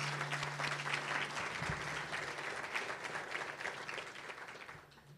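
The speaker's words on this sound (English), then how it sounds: "let's give the Police Foundation a round of applause" A township awards ceremony audience gives the Police Foundation a round of applause: broad, sustained clapping from a large crowd, steady and fairly loud before gradually thinning toward the end.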